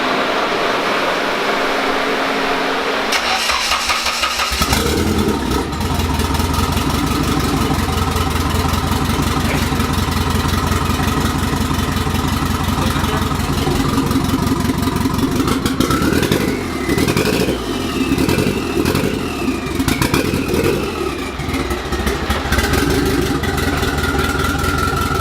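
Engine of a car with an open downpipe and upgraded turbo runs loud and close, idling roughly at first, then revving with rising and falling whine and raspy exhaust.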